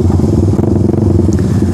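A Suzuki Satria F150 fuel-injected motorcycle engine runs close by with a steady idle that keeps sputtering and misfiring unevenly, with faint clattering mixed in and no talk over it.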